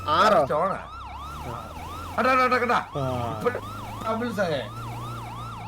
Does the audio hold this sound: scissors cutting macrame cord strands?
no